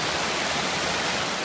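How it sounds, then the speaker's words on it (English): The Mosquito River at Pictured Rocks National Lakeshore, a cold stream near Lake Superior, rushes in a steady, close, broadband wash with no voices over it. "This is the Mosquito River."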